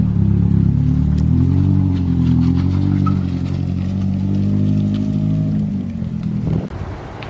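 A forged Toyota 4E-FTE engine, rebuilt from second-hand parts, idles loudly and steadily nearby after a cold start with a deep, rumbling drone, dropping off abruptly near the end.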